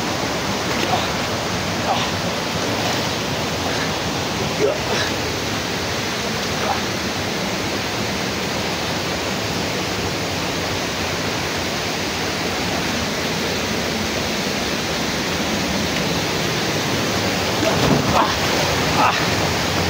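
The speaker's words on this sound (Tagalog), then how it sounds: "Malakas na ang tubig." Strong, continuous rushing water roars broadly and steadily, with occasional louder surges, no voices.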